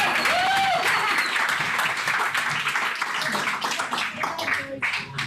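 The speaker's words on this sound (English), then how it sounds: "Let's give it for an applause for Georgisa" An audience claps loudly at a community gathering, with a dense burst of applause that thins into scattered individual claps, with a voice briefly audible early on.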